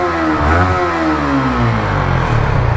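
A Yamaha R15 motorcycle engine revs up close and loud as the throttle is twisted, the pitch sweeping up and then falling back to a throbbing idle.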